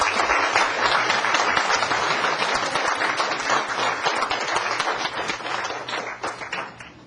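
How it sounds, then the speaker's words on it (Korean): An audience in a lecture hall breaks into warm applause to welcome a lecturer, a dense, even wash of clapping that holds steady and then thins out toward the end. "우리 선생님 뜨거운 박수로 맞아주시기 바랍니다."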